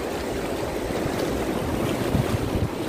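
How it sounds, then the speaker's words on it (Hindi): Rushing river water with waves in heavy rain near Gola river, a steady broadband wash with wind buffeting on the microphone and no voices. "ये देखो इतना पानी की लहरें"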